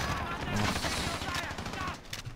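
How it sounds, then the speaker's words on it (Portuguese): Rapid gunfire from Call of Duty: Modern Warfare in a night-vision mode, a dense continuous fusillade of shots with a voice talking faintly underneath. "os caras levando tiro"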